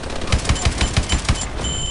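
Rapid, evenly spaced automatic gunfire from the Call of Duty Exo Survival video game plays loud and close, a steady burst of roughly a dozen shots in under two seconds.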